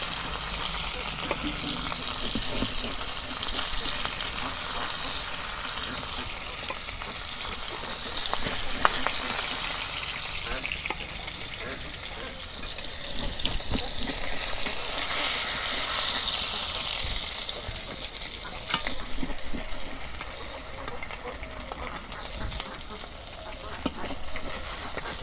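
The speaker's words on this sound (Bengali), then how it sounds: "মাছের মাথাটা ভালো করে ভাইজা নিয়ে আগে" A pangas fish head fries in hot oil in a village kitchen, a loud, continuous close sizzle and hiss with occasional stirring clicks and spatter pops swelling and easing over about twenty-five seconds, no talk.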